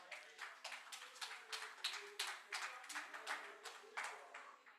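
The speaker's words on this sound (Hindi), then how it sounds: "हम सभी तालियों के साथ स्वागत करें।" An audience in an auditorium applauds in a steady rhythm to welcome a poet onto the stage. The claps come as regular, distant, faint bursts.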